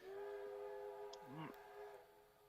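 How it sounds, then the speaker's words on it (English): A passing steam train blowing its steam whistle near a house, a long sustained tonal blast heard muffled from indoors, with a voice briefly talking partway through. "A steam train just went past our house and blared off the steam whistle."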